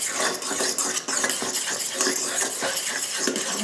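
Nuts are stirred into wet zucchini bread batter for a gluten-free loaf, heard as a spoon scraping and clacking rhythmically around a bowl, close and continuous.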